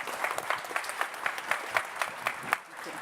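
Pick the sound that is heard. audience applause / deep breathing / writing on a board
audience applause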